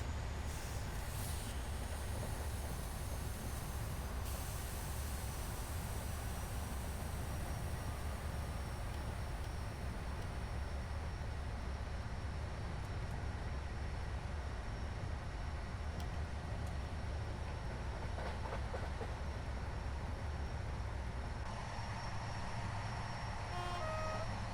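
A train pushed from behind by its rear locomotive in Train Simulator, running on a line through the Bresse region, gives a steady, dense rumble of engine and rolling wheels that continues without pause, with faint beeping tones near the end.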